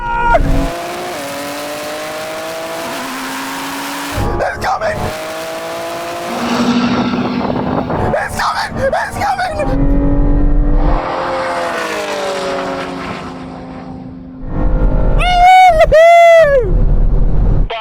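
A Lamborghini Revuelto, a 1000-horsepower BMW M3 Touring and a 1000-horsepower Audi R8 in a drag race, loud engines roaring and rising through gears as the cars pass close, with tyre squeal and a sharp high whine of revs at the end.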